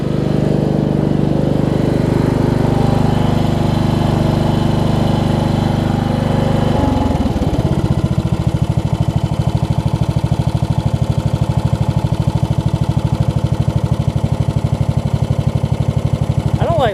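A Craftsman LT1000 riding lawn mower engine runs close and loud, idling steadily at first, then shifting to a rougher, rapidly pulsing chug as the mower gets going, with someone talking over it.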